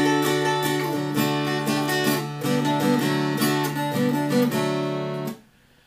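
Guitar in open tuning plays a repeating riff of ringing chords and notes, loud and close with no talk, before cutting off abruptly near the end.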